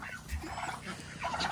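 Turkeys gobbling in a farm pen, several short bursts of rough, bubbling calls close by, layered over a steady outdoor background with no talking.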